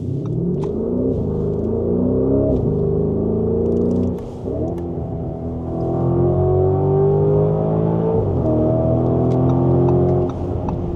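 A Lamborghini Urus SE engine in sport mode rumbles loud and close, its pitch rising and falling through several revving swells with a brief dip midway, and no voices over it.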